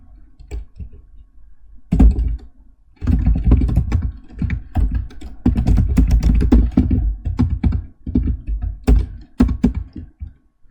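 A name and password being typed on a computer keyboard, with a close sequence of irregular key clicks and thunks in quick bursts and brief pauses.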